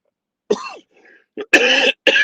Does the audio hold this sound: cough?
yes